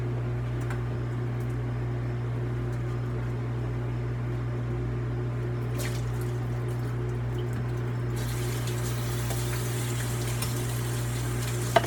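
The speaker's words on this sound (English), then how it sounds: "So I'm going to rinse this off." Canned food rinsed under a running tap, a steady wash of water noise continuing throughout over a constant low appliance hum, with the spray brightening and growing louder for the last few seconds.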